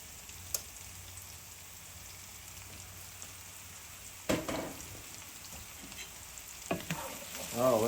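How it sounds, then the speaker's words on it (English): Garlic sizzling steadily in a hot pan as a gravy gets started, with a continuous crackling hiss, a few stirring scrapes and louder spatters near the end. "All right, so let's add our garlic."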